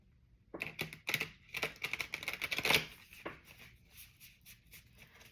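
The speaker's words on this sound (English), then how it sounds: "These cards are tricky to shuffle anyway." Hexagonal-shaped cards shuffled by hand, a quick run of crisp riffling clicks and flutters, close and fairly quiet, tapering into softer shuffling.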